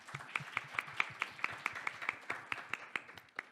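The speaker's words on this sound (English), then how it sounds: "Can we have a round of applause, please?" An audience claps at a plenary debate on unlocking capital for sustainability, a steady run of moderate, slightly uneven hand claps from a modest crowd, heard alone.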